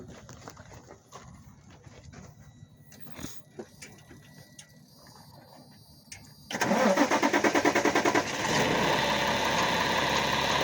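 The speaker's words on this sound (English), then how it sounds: "Start the truck up real quick just to turn the steering wheel so that we can see our brake components" A truck engine is cranked and catches, settling into a loud, steady idle close by after some quieter clunks and movement, with no talk heard.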